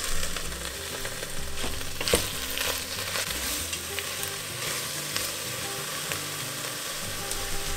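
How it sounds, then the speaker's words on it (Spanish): Shrimp shells and heads fry in hot oil with a steady, dense sizzle and crackle throughout, punctuated by occasional sharp pops and light scraping, close and continuous with no talking. "Y los freímos brevemente"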